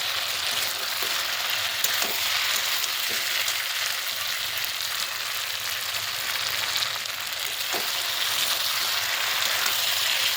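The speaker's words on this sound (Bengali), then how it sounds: "বেগুনটা দিয়ে কিছুক্ষণ কষে নেবো। তো চলো বন্ধুরা দেখতে পাচ্ছি। তো দেখতেই পাচ্ছ কষা কষা কিন্তু হয়ে যাচ্ছে, তেল কিন্তু বন্ধুরা ছেড়ে দিয়েছে।" Eggplant frying in oil with potatoes in a pan, a steady dense sizzle throughout with a few faint clicks of stirring, close and continuous with no talking.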